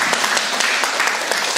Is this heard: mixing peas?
no